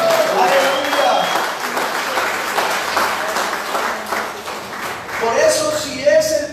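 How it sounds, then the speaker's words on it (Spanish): A congregation at a Spanish-language church service applauds, with steady moderate clapping that runs the whole length while a voice speaks over it near the end. "Denle el aplauso al Señor."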